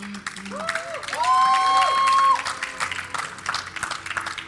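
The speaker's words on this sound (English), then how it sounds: "let me hear you guys in the crowd" A live esports crowd at the IPL3 League of Legends finals, Dignitas versus Epik Gamer, swells into loud applause and cheering, with bright rising electronic tones sweeping over it before the noise settles.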